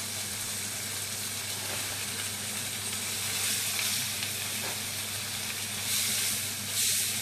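Carrots and lardons sizzle in a frying pan with a dense, steady crackle and hiss, loud and close, with occasional stirring swells.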